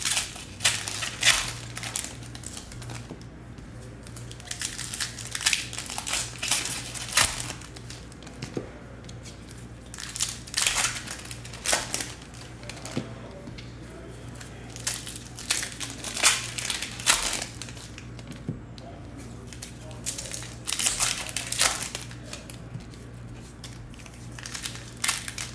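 Plastic wrapping is peeled away and Upper Deck Trilogy hockey card packs are torn open, loud and close: repeated crinkling, crackling rips and rustles in bursts with short pauses between.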